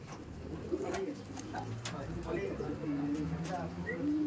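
A pair of kalanka pigeons cooing softly among caged pigeons in Barrackpore, low repeated coos under a voice talking nearby.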